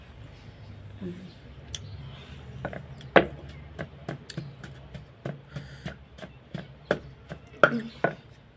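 Thai mackerel chili paste pounded in a mortar, a series of sharp, close knocks in an uneven rhythm that speeds up and grows louder, with quiet talk in the background.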